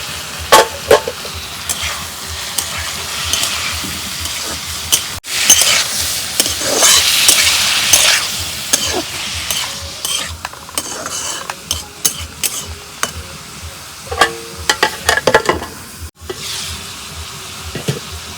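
Small mola fish being fried and stirred with browned onions in a pan, from an eggplant and mola fish recipe: steady close sizzling with repeated scrapes and clinks of a spatula against the pan, no voices.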